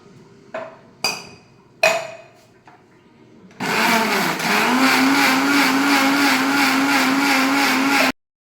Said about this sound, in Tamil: மிக்ஸியை அம்மி மேலே வச்சு அரைக்கிறோம்